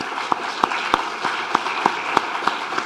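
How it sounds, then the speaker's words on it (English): Applause for foundation staff at the end of a talk event, a soft, even wash of clapping with a few sharper individual claps standing out at irregular intervals, moderately distant. "So please join me in a round of applause for their hard work and enthusiasm"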